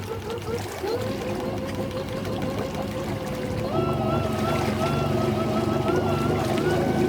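An electric solar boat's 5 kW motor whines and rises in pitch as it revs up, steady water rushing beneath, close and continuous.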